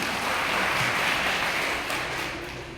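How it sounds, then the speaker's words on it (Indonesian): Brief burst of audience applause at a formal public forum, a dense, steady clatter that tapers slightly toward the end. "kita berikan tepuk tangan untuk kita semuanya"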